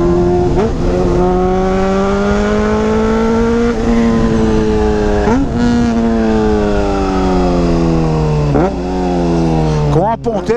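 A Honda CBR 600RR with a 304 stainless steel Atalla exhaust tip is ridden hard. The loud engine note climbs steadily through the gears, with sharp drops at each shift, and heavy wind rush beneath it.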